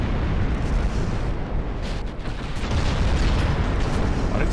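Artillery shells burst in a dense, continuous roar during a video game battle in a DIP v2 Imperial Austrian campaign, a loud rumbling wash of overlapping explosions with no clear gaps.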